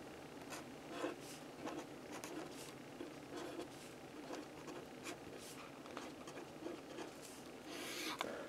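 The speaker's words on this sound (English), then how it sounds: "I'm going to write that pop-out sentence out. So let me write it out." A pen writes a sentence on a post-it note, with steady close scratching strokes and small taps running throughout, no talking.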